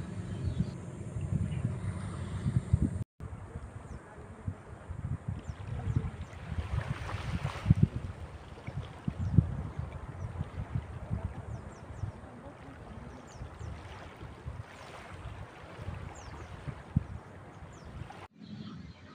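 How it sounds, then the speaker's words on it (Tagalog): Boats pass along a channel off a camping site in Mercedes, Camarines Norte, as a low, steady motor rumble mixed with wind buffeting the microphone and lapping water, with a brief dropout near the start and end. "ang daming dumadaan ng mga bangka"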